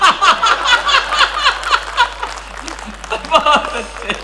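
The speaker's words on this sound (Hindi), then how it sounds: "अब वही लोग ताली बजा रहे हैं जो मॉर्निंग वॉक पर नहीं जाते" Audience at a Hindi comedy show by a comedian clapping in uneven bursts, with laughter and chuckles mixed in and a voice speaking over the noise.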